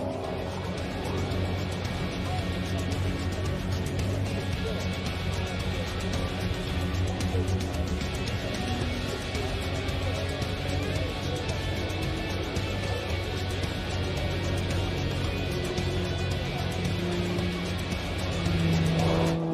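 A Pitts S2S Fury aerobatic biplane drones through a long, continuous engine roar above an air show crowd. Its steady, loud tone shifts slightly in pitch as it passes and maneuvers, with a commentator's voice running faintly underneath.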